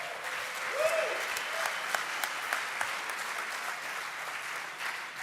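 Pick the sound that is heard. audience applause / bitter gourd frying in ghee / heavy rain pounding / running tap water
audience applause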